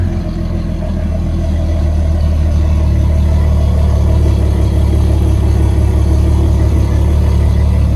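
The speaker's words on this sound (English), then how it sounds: "we're going to let it warm up for a couple minutes here, just on idle" A 2021 Mercury 200hp V6 four-stroke outboard engine idles during warm-up, a loud, steady low rumble that holds continuously close by without revving.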